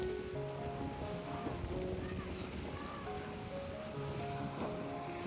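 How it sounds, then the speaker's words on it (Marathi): A fishing boat heads out to sea past a jetty at Marine Drive. A steady wash of wind and surf carries a faint droning engine, with voices in the background. "ही बघा, ही बोट चालले, फिशिंग साठी चाललेली आहे."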